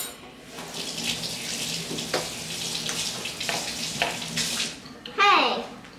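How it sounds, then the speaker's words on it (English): Running tap water splashing over hands at a kitchen sink while baking a red velvet cake in an Easy Bake Oven, a steady wash for about five seconds, ending with a brief squeak and splash as the tap shuts off. "Let me wash my hand."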